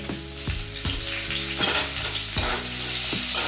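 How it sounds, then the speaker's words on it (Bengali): Chopped onions frying in hot mustard oil with dried red chillies, a bay leaf and five-spice, a steady close sizzle with repeated stirring clatters of a spoon against the pan. "এরপরে কুচানো পেঁয়াজগুলো দিয়ে নিচ্ছি।"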